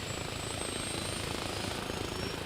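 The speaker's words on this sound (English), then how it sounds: "the helicopters are all raring to go. Listen to them, their engines roaring" Helicopter engines roar in the military game Arma Reforger, a dense, continuous rotor-and-turbine drone with steady chopping throb, loud and close, with no voices over it.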